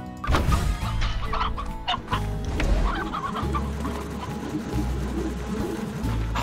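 Chickens in the video game Slime Rancher clucking and squawking repeatedly close by, layered with game sounds and low musical tones, with no talking.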